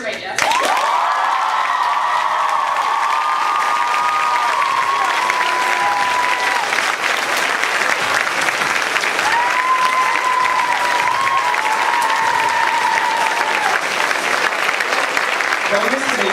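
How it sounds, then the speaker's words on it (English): An audience at an international school awards ceremony applauds an award recipient with loud, sustained clapping that fills the whole stretch, while voices talk over the applause. "Let's all give a round of applause for the recipient of the Majask Award, Mr. Majask."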